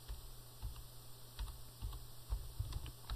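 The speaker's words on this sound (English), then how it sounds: "I'm going to change that date by typing in one that's a little bit later" Keys clack on a computer keyboard as a date is typed into an accounting register, a quick, irregular run of soft, close keystrokes over a low steady hum.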